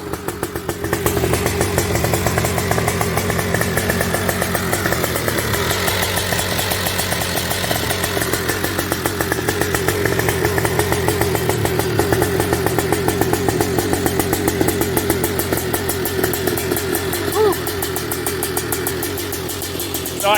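A high-compression HPI two-stroke engine fires up and revs steadily, a loud, buzzing, raspy drone that holds for the whole stretch with small dips in pitch, close to the listener and with no talking.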